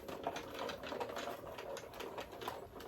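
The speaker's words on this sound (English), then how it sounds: "Okay, so you're going to run this through your cut and emboss." A cut and emboss machine cranking cardstock through a plate sandwich for a Stampin' Up! card, giving a soft continuous rhythmic rolling rattle with repeated ticks, close but quiet, with no talk.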